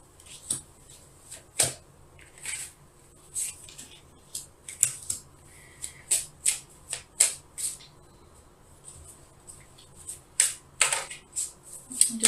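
Tarot cards being shuffled and handled in a reading, crisp separate riffles and flicks in irregular bursts, close and fairly loud against a quiet room, with no speech.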